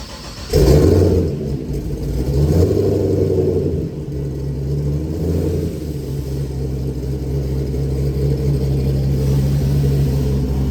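A tuned car's engine idles and revs in short bursts as it is slowly reversed onto a four-post lift in a workshop, a steady close-up rumble with a few throttle blips.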